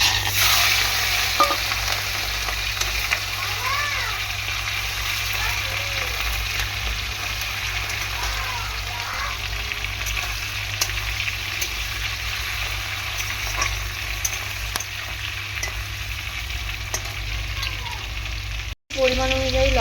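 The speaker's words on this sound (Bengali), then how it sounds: "আমি ভালো করে চিংড়ি মাছটাকে এরকমভাবে ফ্রাই করে নেব।" Shrimp fry in a pan tempered with cumin seeds, a loud, continuous sizzle with stirring and scraping, close up, with occasional faint voices.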